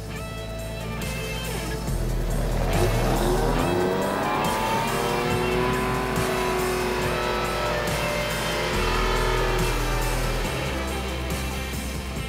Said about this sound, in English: Then you just easily let off that brake and it'll crawl onto the MaxTrax and then from there you can accelerate and make distance out of your stuck place.